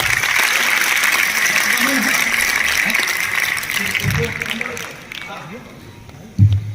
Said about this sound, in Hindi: एक बार अपने सम्मान में जोरदार तालियां आप उठा दें।